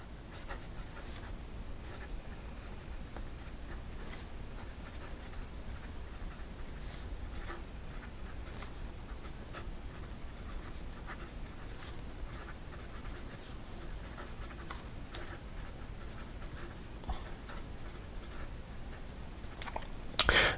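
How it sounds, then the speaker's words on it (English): A Classic Pens LR8 fountain pen with an 18 karat nib writes steadily on paper, a soft continuous scratching with faint strokes and ticks, close up and alone, with no talking. "So let's go with the rest of the writing sample."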